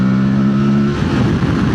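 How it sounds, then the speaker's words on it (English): Motorcycle engine, loud and close, holds a steady lower tone through a downshift while trailing into a corner, then roars up as the throttle reopens on corner exit. "Grab a gear down there, trailing it in, back on the gas, pick the bike up"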